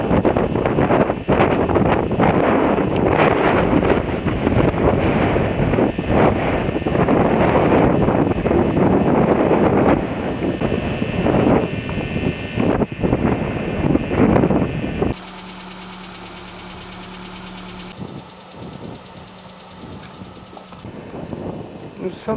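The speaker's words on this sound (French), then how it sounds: "beaucoup de vent ici aussi" Strong wind buffets the microphone outdoors near the village of São Jorge, a loud, continuous rushing roar that drops to a quieter, steadier background hiss partway through.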